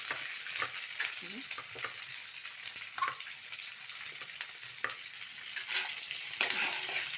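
A spinach dish's tempering spits and hisses in a little oil, a soft steady sizzle with occasional scrapes and taps of a spoon stirring in the pan, fairly quiet and close.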